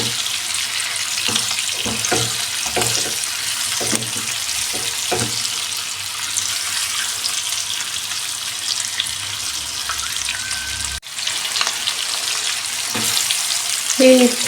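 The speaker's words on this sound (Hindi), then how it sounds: "ये 5 मिनट फ्राई हो गए हैं।" Green chillies and vegetables fry in a pan at home, giving a steady, close sizzle with a few soft stirring clicks and scrapes throughout and a short break near the end.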